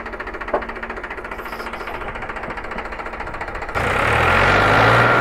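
A Powertrac 439 Plus tractor engine labours up a climb under heavy load, a steady, close knocking rumble that swells suddenly louder and rougher toward the end.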